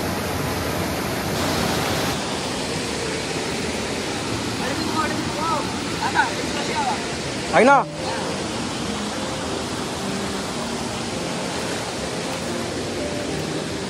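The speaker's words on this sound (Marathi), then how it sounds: "हे खळखळ वाहणारं डोंगरातून आलेलं पाणी एकदम" A mountain stream rushing under pressure near a forest waterfall in Konkan, a steady broadband gurgling roar up close with a brief voice and a short splash partway through.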